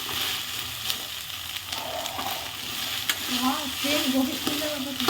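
Cauliflower gobi sizzles and crackles in hot oil while being stirred in a pan at home, with a steady dense frying hiss, scraping stir strokes and occasional sharp pops, close and continuous throughout.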